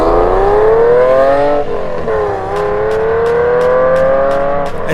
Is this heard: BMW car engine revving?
yes